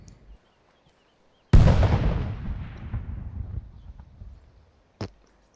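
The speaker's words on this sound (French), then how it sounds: "Grenade." A single loud, close grenade blast in the military shooter Arma 3 on Altis, with a sharp crack that rumbles and decays over a few seconds, then one short thud.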